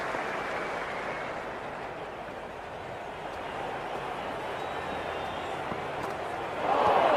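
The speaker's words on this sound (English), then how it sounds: "The crowd is electric right now." A cricket stadium crowd from the video game Cricket 26 during a CSK vs MI IPL match keeps up a steady broad roar with a commentator talking over it, and the crowd noise swells louder near the end.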